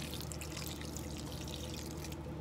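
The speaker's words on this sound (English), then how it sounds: "Add warm milk." Warm milk pours into mashed potatoes in a home kitchen, a continuous soft liquid trickle and splash over a steady low hum.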